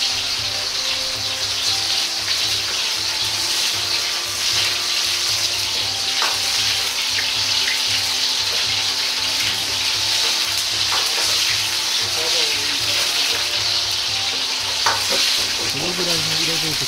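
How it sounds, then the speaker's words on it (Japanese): King oyster mushrooms deep-fry in hot oil, a loud, dense, continuous crackling sizzle that holds steady throughout, with occasional faint clinks of a utensil. "油からうっすらと煙が出てきたら、エリンギを入れ揚げていきます。"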